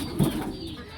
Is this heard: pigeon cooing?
yes